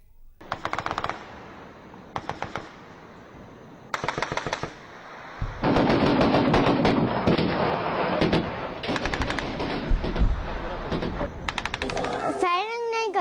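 Bursts of gunfire along the Line of Control between India and Pakistan in Kashmir, short rattling volleys at first, then a sustained loud stretch of rapid shots with sharp cracks, some distant-sounding and echoing.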